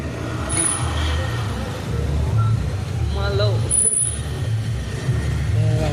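A tempo truck rolls past on a busy road, its engine rumble and a brief brake hiss rising over general traffic while people talk throughout.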